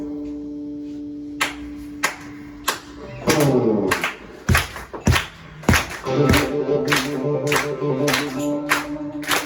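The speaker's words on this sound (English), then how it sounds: "I want you to clap along with us." At a live band performance, the audience claps along in a steady rhythmic beat, sharp close claps repeating over sustained music tones that build as more instruments join in.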